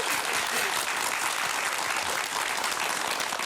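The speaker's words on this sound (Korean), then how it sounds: "박수 한번 주셔야 되겠네요" A studio audience applauds steadily for a few seconds, dense even clapping without pause, at moderate volume.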